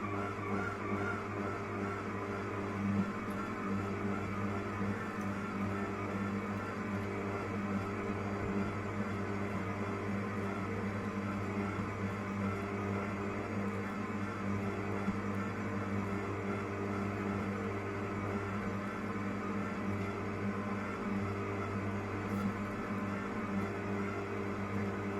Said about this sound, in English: We've got the sausage machine working, ish.